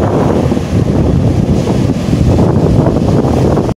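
Ocean waves and strong wind at Madasari beach make a loud, continuous roar, with heavy wind buffeting on the microphone and surf washing underneath, with no voices present.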